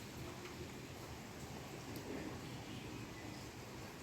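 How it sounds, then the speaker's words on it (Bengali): Steady drizzling rain falls through a gray day, a faint, even patter and hiss that continues unbroken with no voices. "সারাদিন এরকম রিমঝিম বৃষ্টি চলছে।"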